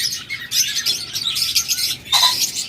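Caged pet budgerigars and lovebirds chirp close by, with bright overlapping tweets in quick irregular bursts and no voices.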